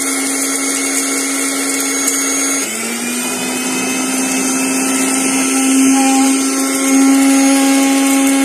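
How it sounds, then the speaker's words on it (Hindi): An electric coffee grinder grinds spices into powder with a loud, steady high whine that shifts pitch slightly partway through and keeps running without a break. "हम इस मसाले को इस अच्छे से कॉफी ग्राइंडर में डाल के पिसाएंगे"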